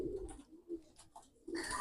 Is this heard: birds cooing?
yes